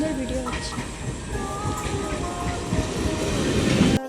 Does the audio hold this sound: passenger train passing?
yes